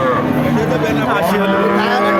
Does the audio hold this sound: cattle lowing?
yes